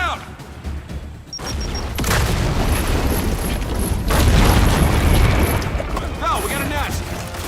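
Frag grenade blast during a firefight in the shooter Gears of War, a heavy booming explosion with a long rumbling roar that fills the scene, mixed with gunfire and shouting voices.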